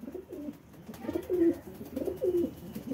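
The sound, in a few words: pigeons cooing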